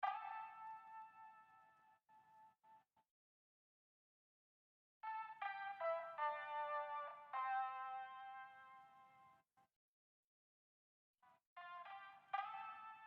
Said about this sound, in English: Then I made this guitar part here.